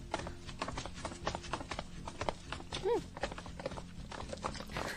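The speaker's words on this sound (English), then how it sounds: "the walking sound effect that they use sounds like horses galloping" Footsteps sound effect from a TV drama that resembles galloping horse hooves, a steady run of close clip-clop beats with faint background sounds.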